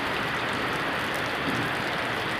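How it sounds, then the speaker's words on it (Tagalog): Heavy rain pours down in a dense, steady hiss with no other sounds. "Di pa rin tumitigil ang ulan."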